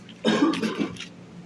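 A person coughs after swallowing water too fast, giving a short, close burst of two or three harsh coughs that trail off into quiet.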